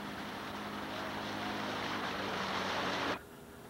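Rowing shell moving on open water at a stroke rate of 22 during a crew practice, a steady rushing wash of water and wind that cuts off abruptly near the end.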